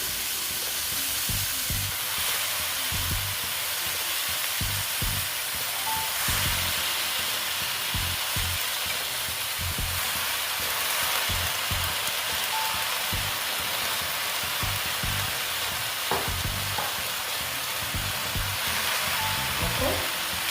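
Bottle gourd greens sizzle steadily in a hot pan for a vegetarian lau shak chorchori with potato and bori, a continuous close crackling hiss with scattered pops and no speech.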